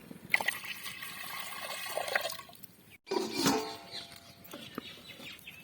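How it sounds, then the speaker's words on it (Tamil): Water trickles and splashes into a pot while coconut payasam is being cooked, pouring close by in two uneven runs separated by a brief break. "தண்ணி ஊற்றிக்கலாம்பா."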